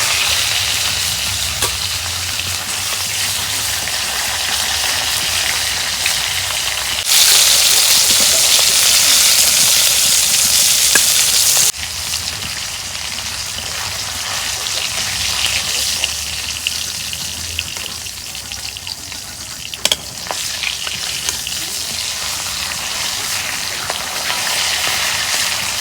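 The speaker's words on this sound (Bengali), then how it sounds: "মাছ ভাজা হচ্ছে, মাছগুলো নামিয়ে নিই।" Rupchanda fish frying in hot oil in a pan, a continuous loud sizzle that surges louder for a few seconds midway, with occasional stirring clicks.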